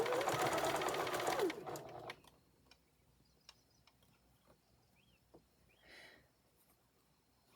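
Sewing machine stitching round fabric into a seam for a memory bear, a loud continuous whir for under two seconds, then stopping, leaving faint ticks and small handling sounds.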